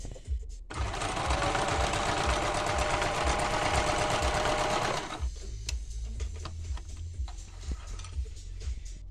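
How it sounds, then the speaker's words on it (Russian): A Yamata sewing machine stitches through four layers of denim with raised thread tension, running in one loud, steady burst for about four seconds before stopping, followed by faint handling sounds. "Шьем."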